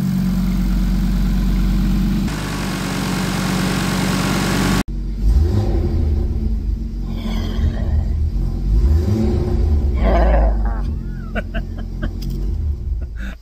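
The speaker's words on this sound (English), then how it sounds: "So, engine starts perfectly. Idles perfectly." An Audi RS3 DAZA engine swapped into a VW Golf R runs loudly up close, a steady harmonic drone that shifts in pitch through light revs and settles toward idle, with an abrupt cut partway through.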